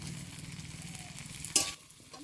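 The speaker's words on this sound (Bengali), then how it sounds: "আমার ডালটা হালকা ভাজা ভাজা হয়ে গেছে।" Lentils fry in a pan for a Bengali cauliflower dalna, giving a soft, steady sizzle. A brief utensil clatter breaks in near the end, after which the sizzle quietens.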